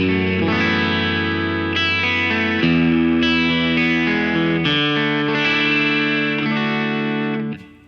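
Sustained distorted chordal tones run through a Safari Pedals Rabbit Tape tape saturation plugin, with gritty, chorused, reverberant texture, steady and loud with chord changes every second or so, fading at the end.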